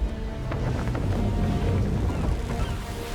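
In the Assassin's Creed 3 video game, a sailing ship moves under half sail. A dense, steady rush of wind and water fills the scene, with no clear voices.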